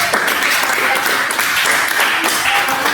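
A group claps together in a dense, continuous burst of applause during a group counselling role-play session, close and fairly loud, with voices mixed in.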